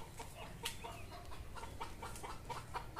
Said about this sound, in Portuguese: Olha lá, o galo subiu na árvore, ó.